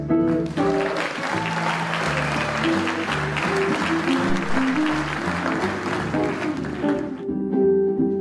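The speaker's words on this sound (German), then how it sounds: "Großer Applaus für einen der erfolgreichsten Jazzgitarristen weltweit" Audience applause greets a jazz guitarist, a steady wash of clapping that runs under loud music playing throughout.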